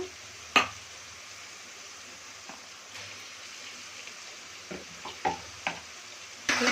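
Onions sizzle steadily in a pan with ginger garlic paste, cooking for a fish curry, with a soft continuous fry broken by a few sharp stirring scrapes and clinks.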